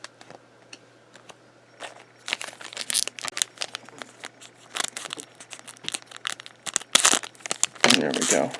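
Scissors slice open foil Pokemon card packs in a bulk opening session, giving irregular bursts of crinkling and tearing that grow busier toward the end, with a person talking intermittently nearby.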